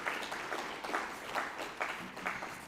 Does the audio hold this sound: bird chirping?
no